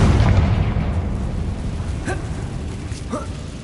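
A Confringo spell blasts in a Hogwarts wizarding video game, a loud fiery burst that rumbles and slowly fades, with a couple of brief whooshing magical zips trailing through the decay.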